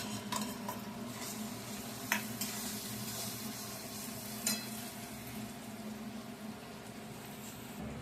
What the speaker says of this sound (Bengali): এবার আমি এই ধনে, জিরে, গোলমরিচটা অ্যাড করছি।